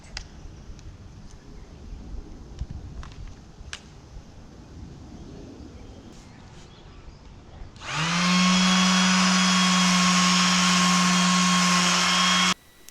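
A Ferrex electric sander is working a coffee table. After a quiet stretch with light handling noises it starts suddenly, then holds a loud, steady, high-pitched whine with a strong buzz for several seconds before cutting off.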